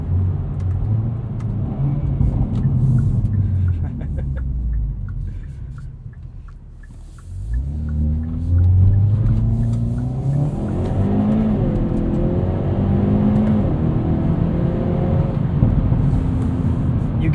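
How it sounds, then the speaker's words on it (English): A 2021 Hyundai Veloster N with a dual-clutch transmission accelerating hard at wide open throttle on a chilly day, its loud engine climbing through revs, dipping at a quick aggressive shift, then pulling strongly again, heard close from inside the cabin. "Get some really aggressive shifts at wide open throttle in this Veloster N."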